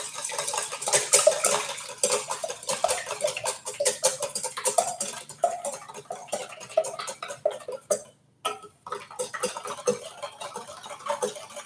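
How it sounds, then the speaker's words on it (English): Butter and eggs for a hollandaise sauce are whisked briskly in a bowl, giving rapid, irregular metallic clicks and taps with a brief pause partway through. "Butter and eggs. Whisk that together."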